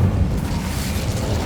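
An Incendio fire spell cast in Hogwarts Legacy on PS5, a dense, rumbling burst of flame that roars steadily and loudly through the whole moment without any voices.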